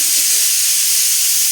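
A pressure cooker vents steam in a steady, loud, unbroken hiss for the full short stretch.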